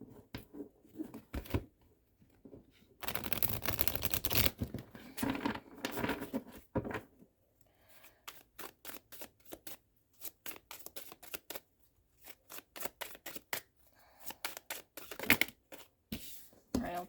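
Tarot cards being shuffled by hand in bursts of soft riffling and patting, with a dense, louder stretch early on followed by quick, irregular flicks and taps up close.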